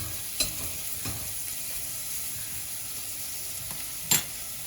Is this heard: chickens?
no